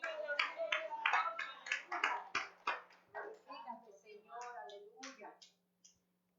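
A small child claps her hands in a quiet room, a series of uneven, close, sharp claps in bursts that fade out near the end, with faint voices and murmurs between them.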